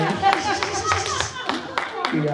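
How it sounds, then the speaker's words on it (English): A comedy-show audience claps in short scattered bursts of individual hand claps, with voices and laughter mixed in over the top. "Clap it up for this gentleman."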